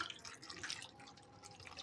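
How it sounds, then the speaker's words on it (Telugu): Water splashes and trickles steadily into a cooking pot for tomato pepper rasam, quiet and close, without pause. "కావలసిన నీళ్ళు కొన్ని అంటే ఉడకడానికి సరిపడే వాటర్ అయితే వేస్తున్నానండి"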